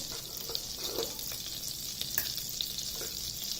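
Two cloves sizzling in hot oil in a pan for tawa pulao, a steady, close crackling hiss with small pops throughout and no voices.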